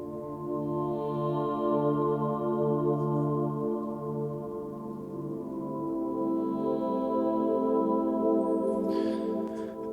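A sustained angelic pad texture from Zero-G Ethera Gold Odyssey, a layered choir-like chord that swells and holds steadily for the whole stretch, with a brief shimmering accent near the end.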